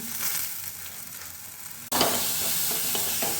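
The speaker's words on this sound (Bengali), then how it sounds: "আবার এটাকে একটু নাড়াচাড়া করে ভালো করে কষিয়ে নিতে হবে" Mustard paste sautéing in oil with onion and garlic, heard as a continuous close, loud sizzle with stirring scrapes. The sizzle swells sharply brighter partway through.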